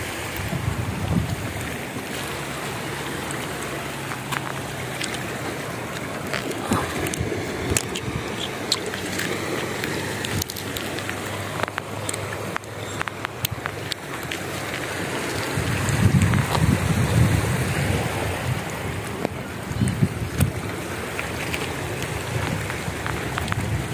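Water surging in at high tide along a seashore where shells are gathered, a steady broadband wash of surf with wind buffeting the microphone and a louder swell rolling in partway through.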